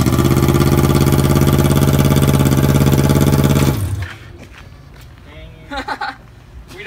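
A car engine in a sleeper project car, freshly oil-changed, runs loud and steady at idle for nearly four seconds, then cuts off abruptly, leaving quiet shuffling and a few faint knocks.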